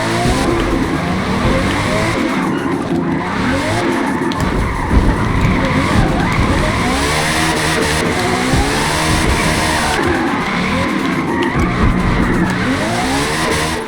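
A 2018 TVR Griffith on a rear-wheel-drive drift tune in the Forza racing game slides sideways, giving long loud tire squeals over a revving engine that rises and falls throughout, with no talking.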